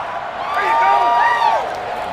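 Stadium crowd noise in the video game Madden 21 during a Next Gen football match, a broad steady roar of cheering swelling slightly in the middle, with some whistling tones over it, moderately loud and continuous.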